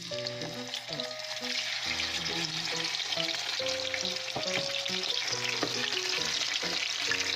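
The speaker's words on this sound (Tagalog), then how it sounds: "nagpiprito ako ng used oil" Chicken fries in used oil for a soy sauce chicken dish, a loud steady crackling sizzle heard up close, with musical tones running underneath.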